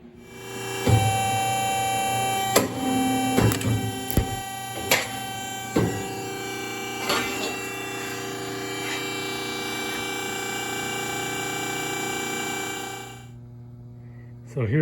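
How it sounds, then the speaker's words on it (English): A metal punch cuts square holes in steel bar for ornamental iron balusters: a handful of sharp clanks spaced a second or two apart over a steady machine hum that cuts off near the end. "I'm going to punch 13/16 by 13/16 hole every 4 1/16 inch to allow balusters to come up"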